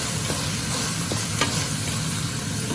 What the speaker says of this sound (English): Saute the onions until you get a nice aroma.